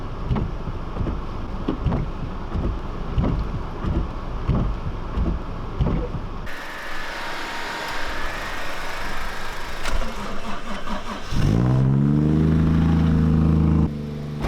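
Nissan 240SX S13 engine pulling out of a snowy parking spot, a rhythmic low idle and rev pulsing up close, then a steadier tone before a loud sustained low drone near the end.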